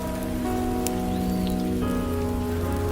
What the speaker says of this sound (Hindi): तभी अचानक से बारिश शुरू हो गई।